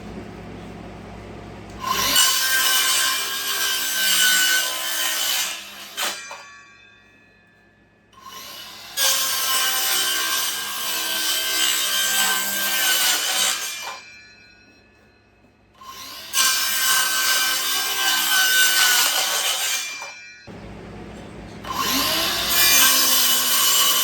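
A Bauer 20V cordless 6.5-inch circular saw cuts through wood in four loud bursts of a few seconds each, with brief quiet gaps between passes and no talking.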